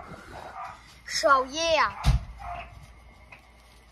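A dog in a video game lets out a short whimpering yip that rises and falls, close and fairly loud, with someone talking just before and after it.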